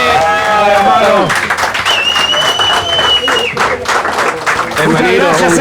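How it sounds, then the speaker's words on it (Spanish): Applause and some cheering for a guest named Toppelberg at a metal bar on a Chilean show, clapping mixed with people talking and shouting over it. "un aplauso para Toppelberg"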